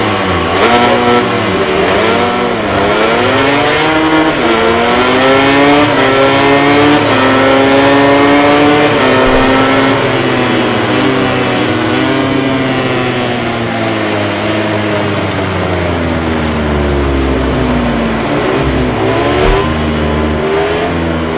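Race motorcycle engines rev loudly and continuously in the MotoGP 19 video game at the Czech Grand Prix start, a dense, sustained whine of several bikes whose pitch rises and falls in sweeping layered waves, with no talk over it.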